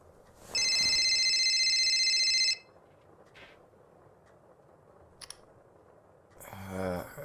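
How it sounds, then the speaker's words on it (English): A phone in a FNAF horror video game rings once with a loud electronic trill lasting about two seconds, followed by a few faint clicks and a short muffled sound in a quiet room. "Your phone ringing."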